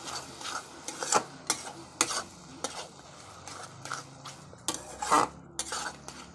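Chili, ginger and garlic paste being stirred into ridge gourd in a pan, giving a series of scraping and clinking utensil strokes at an irregular rhythm over a faint background, with no talking.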